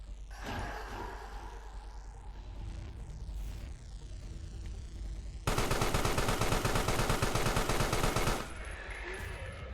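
Gunfire in the game Carrion, heard as a loud dense burst of rapid automatic shots over a rumbling, droning game soundscape, then easing back to the quieter background.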